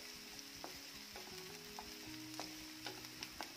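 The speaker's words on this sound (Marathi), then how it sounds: "छान सोनेरी रंगावर कांदा आपल्याला भाजून घ्यायचा आहे।" Finely chopped onion frying in a pan gives a soft, continuous sizzle, with occasional faint clinks and stirring sounds over a steady hum and no talking.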